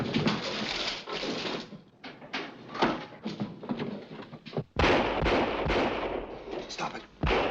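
Repeated gunfire bursts in a 1940 film, loud and dense, with sharp cracks broken by short gaps, mixed with shouting voices and a sudden heavy burst near the end.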